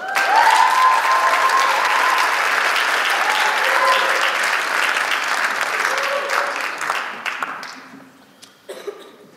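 Loud, sustained audience applause welcoming a presidential candidate to the stage at a student association election assembly, a dense wash of clapping with a few coughs that fades out over the last two seconds.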